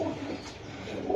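Pigeons coo softly at a pigeon farm, a short low murmuring call, faint and close, with no talk.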